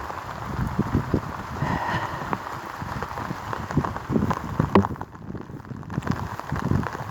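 Steady rain patters on farm machinery left outdoors in the Ukrainian countryside, a continuous close hiss of drops with brief louder spatters, heard alone without voices.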